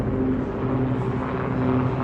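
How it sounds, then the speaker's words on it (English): A helicopter passes overhead above Hollywood, a steady droning rotor and engine rumble that stays loud and even throughout, with no talking. "And a helicopter going on top."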